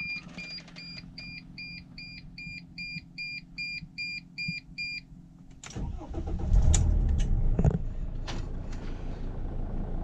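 A 2006 Dodge Sprinter SWB high-top passenger van chimes with a run of regular warning beeps, then its engine cranks briefly, catches and settles into a steady, loud diesel idle close by.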